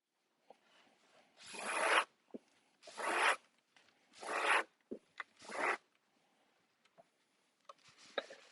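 Danish cord pulled and woven through the seat of a Moller chair, heard as four long rasping, zipper-like pulls about a second each, close and fairly loud, with small taps and handling clicks between them.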